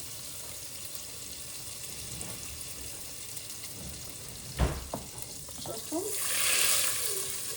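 Butter melts in oil with chopped onions in a pan on the stove, giving a soft steady sizzle with a few utensil clinks and stirring scrapes, and the frying hiss swells brighter near the end; someone briefly speaks.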